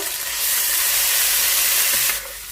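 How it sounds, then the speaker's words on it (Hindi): Ginger garlic paste hitting hot olive oil in a pan gives a loud, close, rushing hiss that swells and holds steady, then eases off near the end. "अदरक लहसुन का पेस्ट ऐड करेंगे अब यहाँ पर 1 टेबल स्पून। फ्राई करेंगे थोड़ा।"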